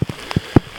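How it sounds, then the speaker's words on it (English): Rain picking up during a hike from Lebanon Creek to Cedar Mountain near Kelowna, British Columbia, heard as a few separate close taps and drops striking a surface over a faint steady hiss, with no talking. "the rain is picking up right now, making it a little bit more difficult"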